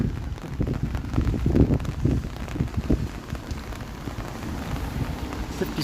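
Rain falls on a Toronto street on a Saturday evening, a steady patter and splashing close by with uneven low rumbling from passing traffic, no talking.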